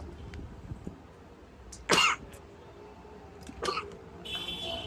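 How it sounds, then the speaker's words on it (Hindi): A single sharp cough stands out clearly, followed by a fainter throat-clearing sound a moment later, over quiet background noise. "सॉरी पर भाई जुकाम और खांसी इतनी गंदी हो रही है ना"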